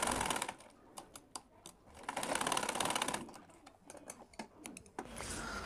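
Sewing machine stitching down a folded fabric end on a school skirt belt, in short close bursts mixed with clicking and fabric handling, faint overall.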